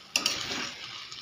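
Stirring banana flower curry with a little ghee and garam masala in a pan, a spoon scraping and clinking twice against the metal over a soft steady sizzle, close and brief.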